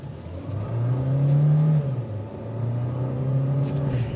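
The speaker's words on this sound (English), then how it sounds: "The exhaust note will filter in a little bit, plus you'll hear some of the engine." A 2024 Hyundai Sonata Hybrid Limited accelerates hard from inside the cabin, its engine and exhaust a steady low droning hum that swells and holds, rising slightly in pitch, with no talking.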